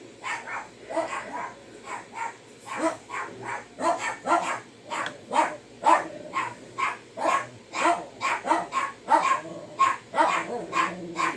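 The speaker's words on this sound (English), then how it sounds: "Sorry, they're gonna bark at everything because they do that." Several dogs bark repeatedly and loudly nearby in a steady, overlapping series of sharp barks, with no talking over them.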